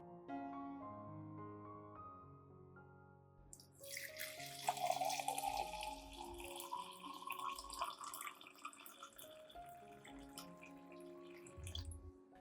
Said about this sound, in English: I will dissolve 1 spoon of coffee in about 500 milliliters of hot water